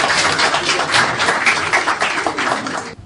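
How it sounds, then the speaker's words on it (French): Loud, dense audience applause at a book signing event, a continuous wash of many hands clapping that holds steady and then cuts off abruptly at the end. "Ça s'applaudit tout ça."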